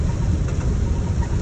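A 1956 Santa Clara van engine drones steadily while cruising down a highway, a continuous low hum with road rumble and no breaks.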